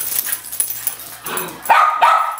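A dog barks and yips excitedly several times, close and loud, with some background noise between the barks.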